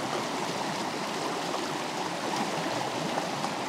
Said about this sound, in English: And we're just dipping right out of the creek.